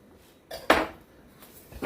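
Knife cutting into a pineapple on a board, a short dull chop followed by a brief scrape, with a faint utensil clink; quiet and close, no talk.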